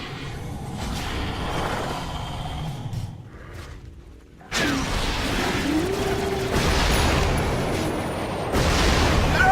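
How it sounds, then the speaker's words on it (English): Dota 2 battle on a defensive tower, booming spell impacts, whooshes and combat clatter, a brief lull then a loud renewed clash that stays dense and close to the end. "Dire's top tower is under attack."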